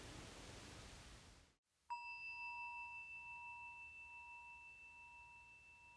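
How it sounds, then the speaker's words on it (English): A single clear meditation bell strikes after a brief hush, its pure ringing tone sustaining and slowly fading away into quiet. "Listening to the sound of the bell as it fades off."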